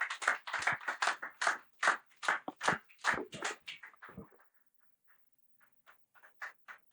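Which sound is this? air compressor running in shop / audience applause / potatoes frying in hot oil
audience applause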